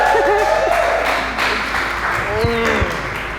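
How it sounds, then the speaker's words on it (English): Group applause and clapping from a few people at a show roundtable, steady and close, with voices talking and calling out over it. "Everybody clap up for this."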